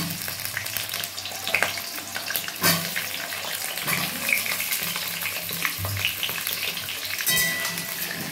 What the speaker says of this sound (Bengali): ওই তেলেতেই আমি আলুগুলো ভেজে নিচ্ছি।